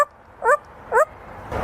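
An African grey parrot imitates a dog bark, giving two short, yippy bark-like calls about half a second apart, moderately loud at close range.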